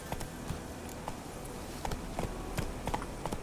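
Hooves of Roach, the horse in The Witcher 3, clip-clopping in a steady rhythm over a busy game background, with light footfall-like thuds repeating throughout.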